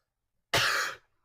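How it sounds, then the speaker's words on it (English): One short, harsh cough about half a second long, close to the mic, starting abruptly out of silence and followed by silence. "Sorry, another cough."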